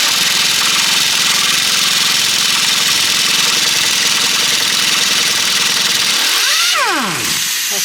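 A pneumatic impact wrench hammers continuously for several seconds, loud and close, while removing an anti-roll bar link on a 2012 Nissan Navara. A sweeping whine rises and falls as it winds down near the end.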